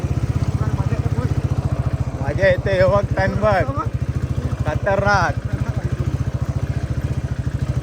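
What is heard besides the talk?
motorcycle climbing uphill on the way to Kothaligad fort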